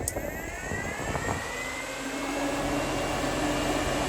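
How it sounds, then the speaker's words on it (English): Cab fans in a Polaris General utility vehicle blow air at full speed, a steady close whooshing roar that rises slightly in pitch and strength as they spin up. "this is a speed controller. So if we go all the way up, it really cranks the air."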